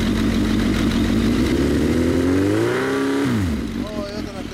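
A 2006 Kawasaki Ninja ZX-10R sportbike fitted with an LCI muffler, loud and close, revving up in a rising sweep, then dropping back toward idle, with voices talking over the engine.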